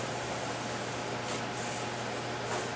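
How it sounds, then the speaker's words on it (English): Water sprays onto the roof of a 1955 Chevy truck during sanding, a steady, close, broadband hiss that holds unbroken from start to finish, with no talking. "Enough spraying of the water."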